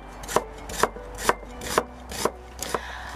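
A knife slices through jicama on a cutting board in six evenly spaced, crisp strokes, each a sharp tap close by against a quiet background.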